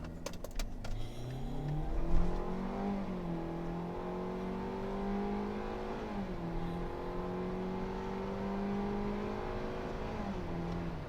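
A 2021 Kia Seltos compact SUV with a 2.0-liter engine pulls away from a stop in sport mode, its engine note rising steadily under full throttle with gear changes, heard from inside the cabin.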